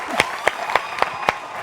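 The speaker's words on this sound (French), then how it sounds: "Déjà, on t'applaudit pour ça." A handful of sharp studio hand claps land in a steady rhythm, about five evenly spaced claps over a soft musical background.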